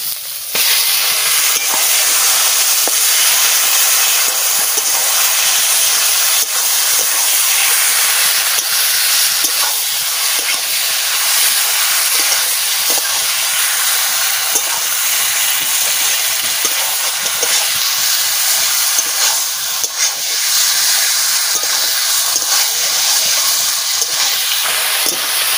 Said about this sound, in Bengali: মশলা ভাজা হয়ে গেছে, এবারে আমি মাংস দিয়ে দিচ্ছি।